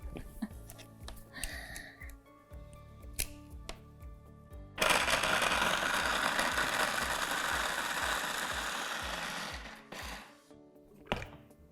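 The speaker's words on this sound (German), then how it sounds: "Und das macht einfach das Gemüse kleinschneiden super einfach." A vegetable chopper's blade whirs through carrots in a burst of several seconds, preceded and followed by clicking and ratcheting of the lidded mechanism.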